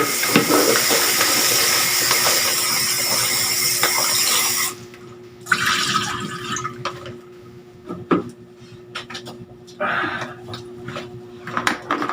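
Tap water runs loudly over food being washed in a sink during crispy eggplant prep, a steady hiss that stops partway, leaving scattered drips, clatters and brief splashes.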